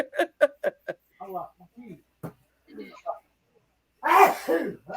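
A single sharp sneeze bursts out loudly near the end, after a stretch of quiet talking and a few short throat sounds.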